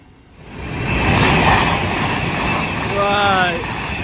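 An Avanti West Coast train, number 39154, bound for London Euston at Tamworth station, rolls through as a broad, steady rumble mixed with wind buffeting, with a brief voice heard near the end.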